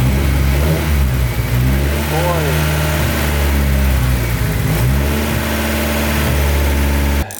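SRZ motorcycle engine running steadily with a deep, sustained roar, throttle worked up and down in short revs around the midpoint, close and loud throughout before cutting off abruptly at the end.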